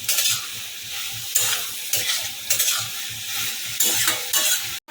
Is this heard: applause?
no